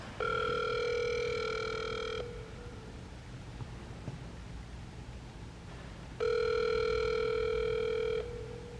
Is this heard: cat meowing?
no